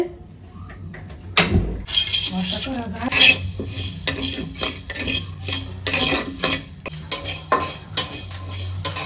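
A utensil scrapes and knocks repeatedly against a pan as lentils are stirred and fried, with a light sizzle underneath and occasional clanks.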